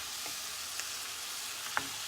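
Beef and vegetables in a skillet give a steady, close hiss of frying, with a few light stirring clicks and scrapes and no talking.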